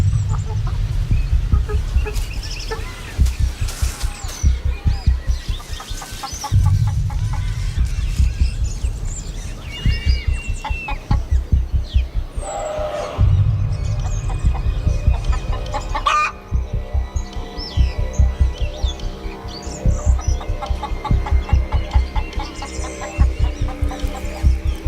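Chickens cluck repeatedly inside a henhouse, their rhythmic, close clucking steady throughout, with occasional louder calls and busy movement in the coop.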